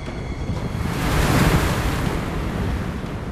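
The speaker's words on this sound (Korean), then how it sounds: "매섭게 몰아치는 파도." Rough, stormy seas churn off Dokdo around a shrimp fishing boat, with a loud continuous roar of crashing waves mixed with wind buffeting the microphone and no voices.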